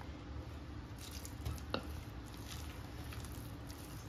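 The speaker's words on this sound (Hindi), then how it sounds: "दो टेबल स्पून अभी पानी डाली हूँ मैं इसके अंदर" Water is added a little at a time to a mixing bowl for an eggless tutti-frutti cake batter. There are faint, close drips and soft squishy splashes against a low background hiss.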